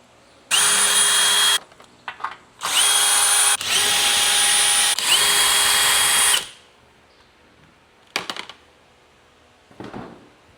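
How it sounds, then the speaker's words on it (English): A power drill fitted with a 12 mm socket whines loudly in several sustained runs while backing screws out of a car's underbody guard, followed by quieter clicks and short brief spins. "All it takes is a 12 millimeter socket. Go ahead and run those screws out, pull this little guard off."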